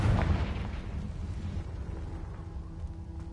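A Confringo spell in Hogwarts Legacy goes off as a heavy, rumbling blast with a loud low boom at the start that decays into a rolling, crackling tail.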